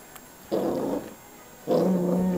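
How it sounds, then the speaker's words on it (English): Two low, rumbling dog growls, close by, the second longer and louder than the first, separated by a short pause. "Are you growling at me?"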